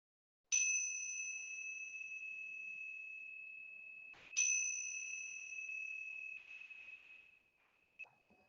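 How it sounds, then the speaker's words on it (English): A meditation bell rings twice to close a mindfulness practice, each strike a clear bright tone that sustains and slowly fades, the second strike about four seconds after the first, in an otherwise quiet room. "So as we hear that bell, we know that we've come to the end of the practice."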